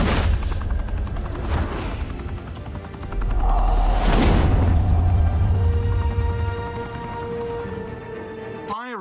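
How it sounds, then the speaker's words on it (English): Gunfire in Batman: The Telltale Series comes as a few sharp loud bursts over a rumbling battle bed, with a low boom, engine-like drone and a voice in the mix. "Open fire!"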